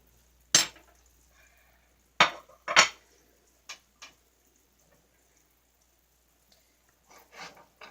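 Meat being stirred in a pot with a utensil: scattered metallic scrapes and clinks, a few sharp knocks followed by quieter scraping, close, with near-silent gaps between.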